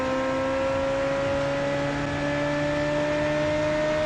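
Steady loud engine drone from a player-built car in the BeamNG driving game, holding a constant pitch with strong harmonic hum, loud even with mufflers fitted, continuous for the whole stretch with no voices.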